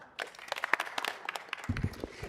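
Scattered clapping from a city council meeting audience after a presentation, irregular sharp claps building into a modest round of applause, with a brief low voice near the end.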